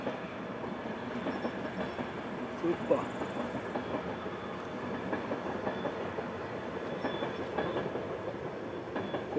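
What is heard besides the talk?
passing train on the Semmering railway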